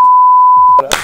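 A single steady censor bleep tone rings out clean and loud for most of the second, cutting off abruptly as a voice and breathy noise break in at the end.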